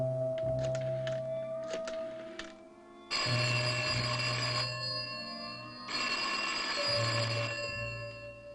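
An old-fashioned telephone bell rings in two long, loud bursts separated by a pause, with a faint room hum underneath and no talk.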